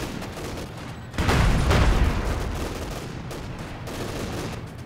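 Panzer tanks firing on a field gun in the Company of Heroes video game, a sudden heavy burst of booming gunfire that swells loud and then rumbles on as a dense, sustained barrage.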